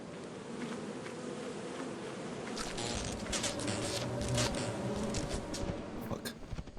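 Swarming bees from the video game Lethal Company buzz in a low, droning hum that swells louder midway and lingers, mixed with clattering footsteps and movement noises.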